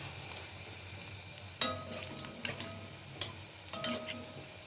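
An egg frying in oil for Noakhali dim sundari pitha gives a soft, steady sizzle, broken by a few light clinks and scrapes of a utensil.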